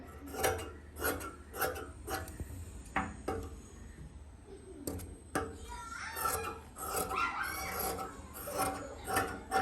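Scissors cutting fabric for a nightie, a series of close, crisp snips and rasping cuts in uneven bursts, with short pauses between strokes and no talk.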